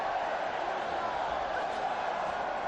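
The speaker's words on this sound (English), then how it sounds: "Record-setting crowd." Dense, steady roar of a record-setting stadium crowd at a UFC women's fight inside Etihad Stadium in Melbourne, a continuous broad wash of noise with a commentator's voice over it.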